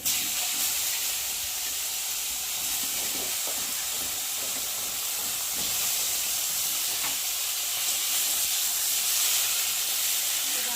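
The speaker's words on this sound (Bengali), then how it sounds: "সেই তেলের মধ্যে আগে বেগুনগুলোকে ভেজে নেব" Eggplant pieces fry in leftover fish oil, giving a continuous, even hiss and sizzle with faint stirring knocks underneath, close and fairly loud throughout.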